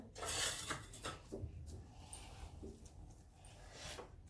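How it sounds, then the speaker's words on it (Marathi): Warm chakli dough scraped from an iron kadhai into a plate, with metallic scraping and clattering of utensil against pan and plate, loud and close for a few seconds, with no talking. "कढईमधलं पीठ आपण ताटात काढून घेऊ ताटात काढून घेतलेलं आहे"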